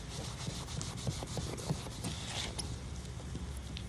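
A 35-year-old boat hull is wet sanded by hand, giving a continuous close scrubbing rasp with quick, rhythmic back-and-forth strokes and no talk.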